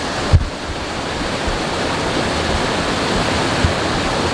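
Falls of Falloch waterfall, a steady, full roar of rushing water heard close and continuously, with no voices over it.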